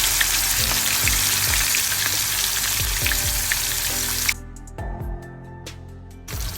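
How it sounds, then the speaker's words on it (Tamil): Loud, continuous sizzling and crackling of fish frying in hot oil for fish biryani, with soft clinks and stirring sounds; the sizzle drops to a quieter hiss near the end. "இப்போ மீனை சேர்த்து பொரிச்சு எடுப்போம்"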